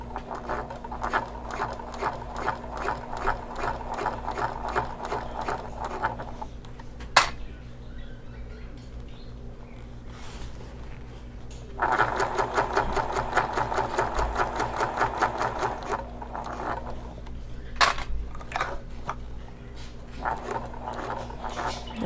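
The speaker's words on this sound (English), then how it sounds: "This is not a very difficult vinyl to sew" A sewing machine stitches vinyl for a shoulder bag in quick, even bursts of rapid mechanical clatter, pausing briefly midway before resuming, close and clear with a steady motor hum underneath.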